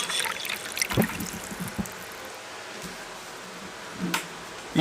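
Whiskey poured from a bottle into a glass, an intermittent trickle with a few small splashes and clinks, fairly close and unaccompanied by talk.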